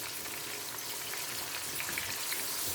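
Garlic-ginger paste hits a hot pan for kheema matar and sizzles loudly and steadily at close range, with no talking.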